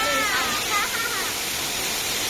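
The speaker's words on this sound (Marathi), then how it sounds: "आणि हो धबधबो आहे" Steady, dense rush of falling water fills the whole clip, loud and constant, with no clear voices standing out.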